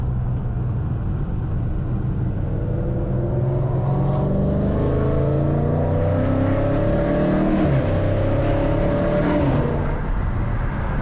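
A Dodge Challenger Scat Pack's engine drones loud and steady while driving, and its pitch sweeps up and down as the driver downshifts into third gear for a turn taken at about 40 mph.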